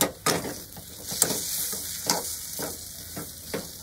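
Pointed gourd stuffing mixture being stirred in a pan with sugar and a pinch of garam masala, a soft low sizzle broken by regular scraping spatula strokes, fairly faint and close.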